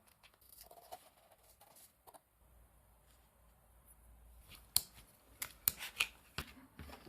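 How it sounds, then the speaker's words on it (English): Scissors or a blade cutting narrow strips across corrugated cardboard, heard as soft crinkly snips early on, then a series of sharp, close clicks and crunches in the second half, with no voices. "For that I cut some narrow strips across the corrugation"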